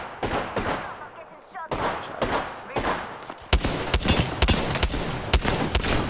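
Rapid gunfire from weapons in the video game Apex Legends, bursts of repeated shots growing denser toward the end, loud and close, with players talking over it.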